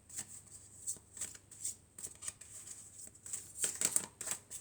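Oracle cards being drawn and shuffled by hand, a quiet series of crisp riffling bursts in an irregular rhythm, close and alone without speech.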